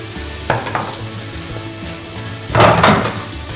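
Onions dropped into hot oil in a pan set off a loud, steady sizzle and fry hiss, with stirring scrapes rising in a louder burst midway through, no talking.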